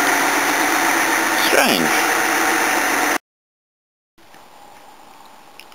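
Toyota Cressida engine revving and idling with a bad noise, a steady loud running note with one quick rev, then an abrupt cutoff to silence before a quieter hum resumes; a voice speaks briefly.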